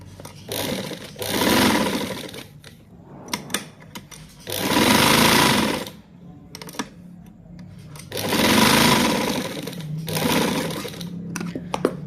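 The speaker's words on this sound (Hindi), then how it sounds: "अब मैं इसको यहाँ से यहाँ तक ऐसे पूरा सिलाई करूँगी" Sewing machine stitching doubled fabric for a small girl's frock, three steady whirring runs with short pauses and clicks between them, close and fairly quiet.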